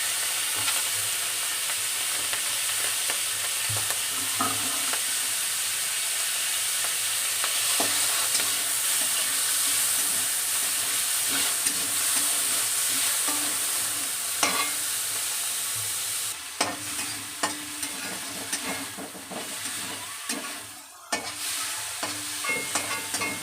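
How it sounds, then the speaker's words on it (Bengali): Shrimp, rubbed with salt and turmeric, frying in hot oil for a curry, giving a steady loud sizzle with occasional stirring scrapes throughout, no talk. "তেলের মধ্যে চিংড়ি মাছগুলো দিয়ে দেব।"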